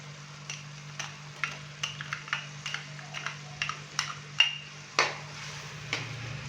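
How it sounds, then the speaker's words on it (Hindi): A spoon clinks and scrapes in a pan at a fairly regular pace while ginger, garlic and green chili paste is stirred into softened onions, over a faint low sizzle, with no talking. "अच्छे से मिक्स करेंगे और हल्का सा हम इसको फ्राई कर लेंगे।"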